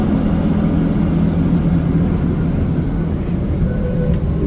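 A car wash undercarriage spray system at a Washworld Razor wash runs steadily, a dense, loud broadband rush of water jets and machinery hum that continues unbroken throughout.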